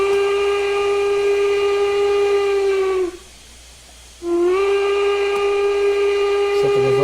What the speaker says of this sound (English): And the whistle again.